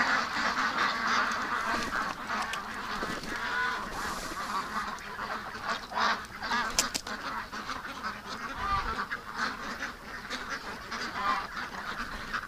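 Several ducks quack and honk in a yard, a steady chattering flock at moderate distance over faint outdoor background noise, with no talking.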